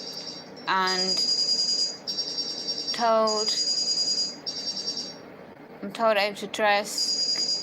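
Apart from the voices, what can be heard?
telephone ringing in the room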